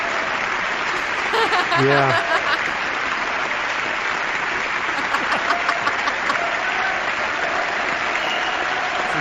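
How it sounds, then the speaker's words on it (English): Sustained crowd applause for a standing ovation fills the room, steady and dense throughout, with a brief voice and some laughter mixed in near the start. "This is met with a standing ovation."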